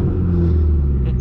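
Deep, steady exhaust rumble from a straight-piped Subaru STI held at around 3,000 RPM, loud and close with a raspy edge and no pauses, heard briefly.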